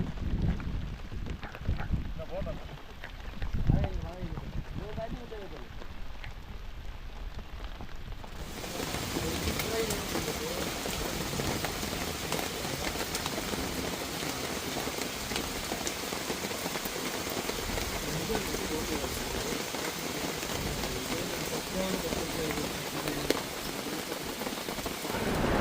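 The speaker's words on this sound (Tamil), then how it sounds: "நேரம் அதிகமாக மழையோட ஸ்பீடும் அதிகமாகிட்டே இருந்தது." Heavy rain pours down steadily at a forest campsite in Periyar Tiger Reserve, a dense, unbroken hiss that jumps from a quieter patter to a loud, constant downpour partway through.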